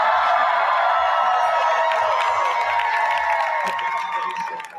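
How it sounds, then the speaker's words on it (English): A large crowd cheers and applauds loudly, with whoops and shouts rising over sustained clapping before it fades slightly at the end. "Give them all a big round of applause."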